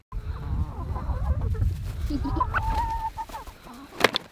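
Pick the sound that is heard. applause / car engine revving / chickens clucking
chickens clucking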